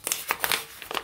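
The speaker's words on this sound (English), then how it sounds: "If I can get the box open." A cardboard box from a Diamond Art Club diamond painting kit being pried open, a quick run of close, light crinkling and scraping noises.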